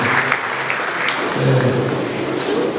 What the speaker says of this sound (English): Let's give a round of applause for you.